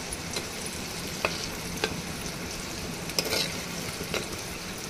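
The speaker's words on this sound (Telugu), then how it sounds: "నూనెలో మెంతెం కూర కొంచెం వేగితే మంచిగా ఉంటుంది" Fenugreek leaves frying in oil for a tomato methi curry, a soft steady sizzle with a few sharp stirring clicks and pops, fairly quiet and close, with no speech.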